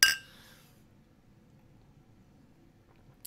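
Whiskey glasses clinking together in a toast, one bright clink at the start that rings off into near silence, with a faint small tap at the very end.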